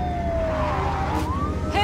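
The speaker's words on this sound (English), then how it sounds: "A police car?" A police car siren wails in the game Crime Secrets: Crimson Lily, its rising and falling tone sweeping past close by over a low engine rumble, climbing sharply again at the end.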